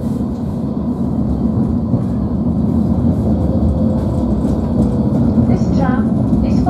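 A steady low rumble of a Nottingham Express Transit tram running on rails, with rolling clatter and a faint squeal of wheels near the end.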